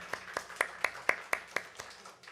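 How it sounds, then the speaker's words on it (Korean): A small church congregation claps in welcome during a sermon, giving about ten distinct, evenly spaced claps in a slow steady rhythm that fade toward the end. "우리 박수로 환영하겠습니다."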